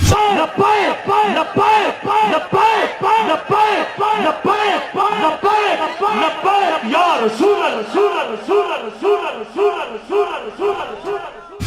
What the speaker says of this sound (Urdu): تقریب کے آخر میں لبیک لبیک یا رسول اللہ صلی اللہ علیہ وآلہ وسلم کے نعرے بھی لگائے گئے۔